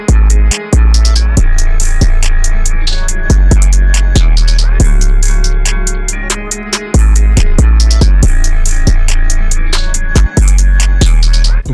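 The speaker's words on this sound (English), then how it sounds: "the last thing we're gonna do is make up a slightly different 808 section" An 808 drum section from a flipped-sample hip-hop beat plays loud and upfront, with booming sub-bass 808 hits and sharp drum strikes in a steady rhythm over a sustained sampled melody.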